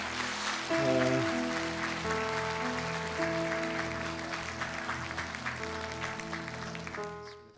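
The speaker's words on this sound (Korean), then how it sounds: "주님께 큰 영광의 박수 하나님께 힘차게 올려드리겠습니다." A Korean church congregation at a Sunday worship service claps steadily for several seconds over sustained keyboard chords, the applause thinning out near the end.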